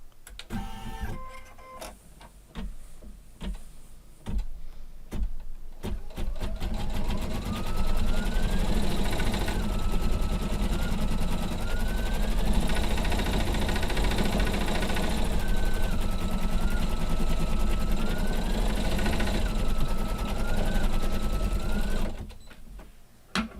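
A sewing machine runs steadily, stitching a yellow satin stitch around an egg shape on a beginner's mug rug. The loud, continuous motor hum starts after a few seconds of scattered handling and stops abruptly near the end.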